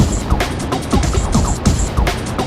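Motorcycle riding along back roads in Ohio's Amish country, the engine and wind rushing loud and close with steady rumble and repeated pulsing surges throughout.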